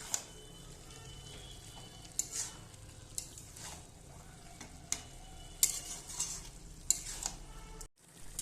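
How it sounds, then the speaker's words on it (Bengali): Cabbage curry with fish head, green chilli and coriander stirred in a pan: a steady close sizzle broken by irregular spoon scrapes and clinks, with no voices. "এবার আমি কাঁচা লঙ্কা আর ধনেপাতা উপর থেকে দিয়ে দেব। দিয়ে ভালোভাবে নেড়ে নেব।"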